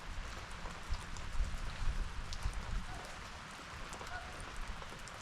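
Steady rain falls outdoors in a continuous soft patter of drops on surfaces, fairly faint, with a few louder bumps and occasional voices around it.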